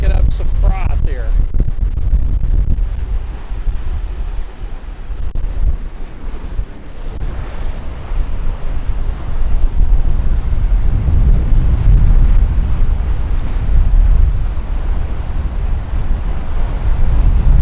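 Strong wind at sea buffets a catamaran, a continuous heavy roar of gusts and wash of waves, loud and close on the microphone, with a voice briefly audible near the start.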